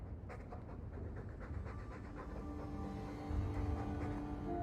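Steady, close dog panting in the role-playing game Dragon Age 2, quick rhythmic breathing that carries on for several seconds with a low rumble underneath and no one talking.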